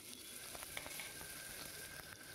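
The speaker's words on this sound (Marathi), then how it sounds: "आता कांदा परतून घेऊ" Chopped onions sauté in oil inside a pressure cooker for a chicken curry, a faint, steady sizzle with small crackling pops and occasional stirring scrapes, with no talking.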